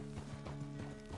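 Horse hooves clip-clop in a steady rhythm of soft thuds in Red Dead Redemption 2, faint and close, over a low sustained hum.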